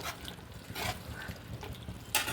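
Water is poured into a village-style mutton curry with vegetables, giving faint, soft splashes and trickles in a few short bursts, quiet and close with no talk.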